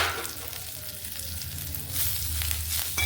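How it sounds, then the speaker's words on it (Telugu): Curry leaves sizzle and crackle steadily as they fry in a pan for a spicy Telugu chutney powder, a dense hiss that swells louder toward the end, with no talking. "ఇప్పుడు ఈ కరివేపాకు కూడా వేద్దాం."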